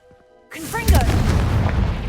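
A Confringo fire spell blast in Hogwarts Legacy hits after a short quiet moment, giving a loud booming burst that rolls into a sustained rumbling roar, with a brief vocal effect mixed into the blast.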